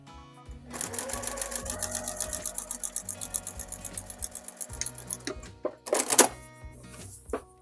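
A sewing machine stitches binding onto a quilt in rapid, steady bursts of needle clatter, pausing briefly before a final louder run, close and alone.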